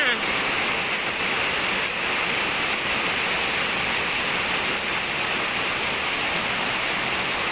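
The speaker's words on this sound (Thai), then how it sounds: "ให้ดูแต่คลิปฝนตกแหละ" Heavy rain pours down steadily, a dense, even roar of falling water that stays close and constant from start to finish with no pauses.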